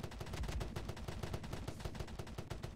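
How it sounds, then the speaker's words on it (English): Video game gunfire rattles in dense, rapid automatic bursts throughout, steady and fairly faint, with no talking over it. "I'm being shot at."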